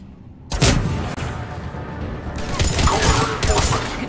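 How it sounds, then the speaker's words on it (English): Cerberus cannon in Mass Effect 3 fires a heavy booming blast, followed by sustained rumbling explosions and loud battle noise that builds and stays dense throughout. "Looks like Cerberus got that cannon operational, Commander."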